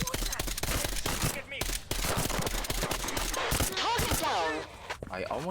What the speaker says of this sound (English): I'm just gonna shoot it.